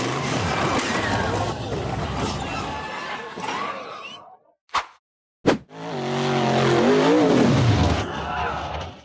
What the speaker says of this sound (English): The black buggy accelerated straight up the steep, rocky dirt slope.